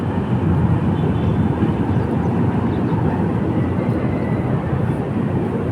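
A light rail train rumbles past at close range, a loud, steady roar of wheels and motion filling the whole stretch without letting up.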